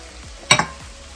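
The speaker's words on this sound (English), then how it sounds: "Now I'm gonna add the mango plum. Cooking together." Mango pulp and burfi mixture cooking in a pan gives a brief burst of stirring and sizzling, two quick close scrapes about a tenth of a second apart against a quiet background.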